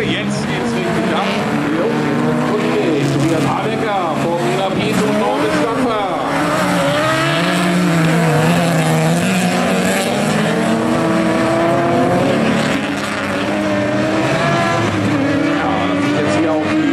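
Autocross race cars launch into a class 12 final at Mölln in September 2021, a loud sustained roar of revving engines with rising and falling pitch, tyre noise and a commentator talking over it.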